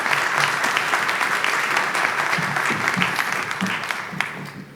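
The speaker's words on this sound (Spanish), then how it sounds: "Un aplauso para el doctor Rolando." Audience at a conference for Dr. Rolando Herrero breaking into sustained, dense applause, loud and steady before tapering slightly at the end.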